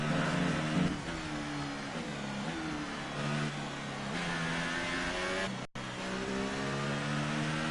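A Formula 1 car in the video game F1 2018 screams at full throttle, its engine pitch climbing through repeated upshifts with a brief cut near the end.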